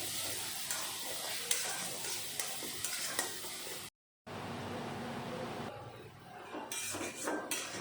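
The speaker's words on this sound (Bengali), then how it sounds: "এখন আমি দিয়ে দিলাম আদা বাটা।" Ginger paste stir-frying with spices in a pan: a close sizzle with scraping and a few clinks of the spoon against metal, cut by a brief silence before the cooking noise resumes.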